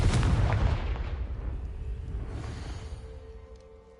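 The Confringo blasting spell from the Hogwarts Legacy video game goes off as a single loud, close explosion whose deep rumbling boom slowly fades away over several seconds.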